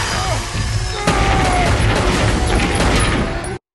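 Gunfire from the TV show Supernatural rings out in a rapid burst of sharp cracks with crashing impacts, loud and dense over a backdrop of soundtrack tones.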